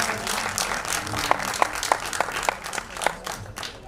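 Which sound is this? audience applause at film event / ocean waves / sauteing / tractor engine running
audience applause at film event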